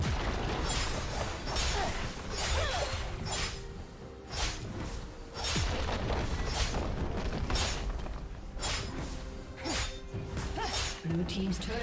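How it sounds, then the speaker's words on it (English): Turret destruction in League of Legends during a Riven versus Camille top-lane match: repeated loud crashing, shattering impacts and whooshes over dense game sound, with an announcer voice speaking throughout. "Blue team's turret has been destroyed."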